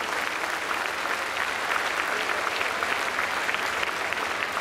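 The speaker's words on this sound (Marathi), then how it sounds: "तुम्ही सगळ्या लोकांनी या दोघांसाठी एक प्रचंड टाळ्यांचा गजर केला" Loud, sustained audience applause at a Marathi theatre council event, a thick even roar of many hands clapping without pause.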